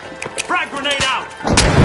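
A frag grenade goes off in a multiplayer brawl video game, a sharp loud burst arriving near the end after a quick series of thumps, with an announcer's voice heard just before it.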